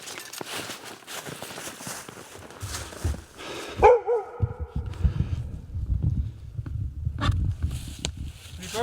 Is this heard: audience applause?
no